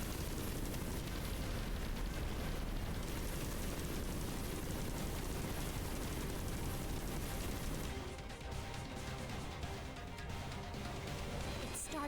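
Dense, roaring gunfire and explosions fill a battle in Xenoblade Chronicles X, a loud continuous barrage of booms and rumble that thins slightly toward the end.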